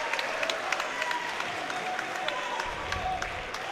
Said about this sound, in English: Ladies and gentlemen, big round of applause for both fighters before they go into the final round.